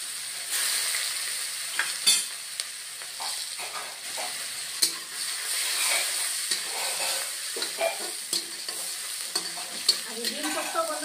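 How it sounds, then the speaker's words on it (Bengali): Chopped onions fry in leftover egg-frying oil with a steady, dense sizzle, broken by occasional sharp stirring scrapes and clinks from a spatula. "এখন আমি কুচানো পেঁয়াজ দিয়ে দিচ্ছি ওই ডিম ভাজা তেলের মধ্যে।"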